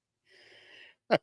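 A single person's sneeze, an indrawn breathy gasp followed by a short, sharp, loud burst close up.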